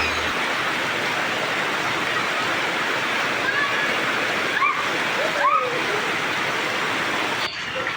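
Steady heavy rain pouring down outdoors, a dense continuous wash of water with faint splashes and a few distant children's voices playing in it.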